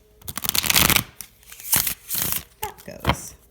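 Affirmation cards drawn and shuffled from a deck during a pick-a-card reading, giving several brief papery riffles and slides, close and moderately loud, with pauses between them and no talking.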